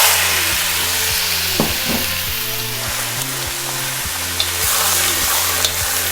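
Wagyu mince frying loudly in a hot oiled wok, a dense, steady close sizzle with occasional stirring knocks and scrapes throughout, no talking.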